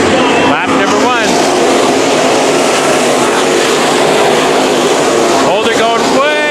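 IMCA Modified race cars restarting at Bakersfield Speedway, a loud, continuous roar of several engines with rising and falling pitch sweeps as cars accelerate past, and an announcer talking over it.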